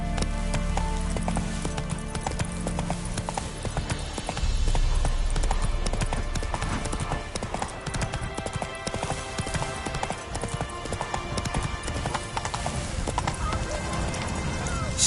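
Roach the horse galloping in The Witcher 3 on PS5, rapid rhythmic hoofbeats pounding steadily at close range amid game background sounds, with voices speaking over part of it.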